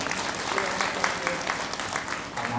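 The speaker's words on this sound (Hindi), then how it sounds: "उनके लिए भी जोरदार ताली बजाओ।" Audience clapping at a Hindu religious discourse gathering, a broad continuous wash of applause with a faint voice underneath.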